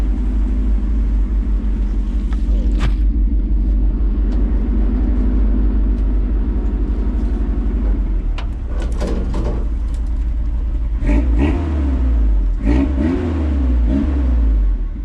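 A car engine with a homemade Flowmaster two-chamber exhaust and no catalytic converter idles with a deep, throaty rumble, then revs sharply several times, the loud exhaust barking and roaring up close.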